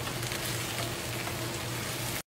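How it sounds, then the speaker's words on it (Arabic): Onions and vegetables frying in a pan with a steady, close sizzle and light stirring, cutting to sudden silence near the end. "نستنى الخضار في التقليب حتى يتحمر معانا البصل"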